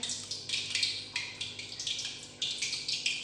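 Chicken pieces being dipped into water while coating them for KFC-style fried chicken, giving soft repeated splashes and sloshes in quick bursts, close and fairly quiet with no talking.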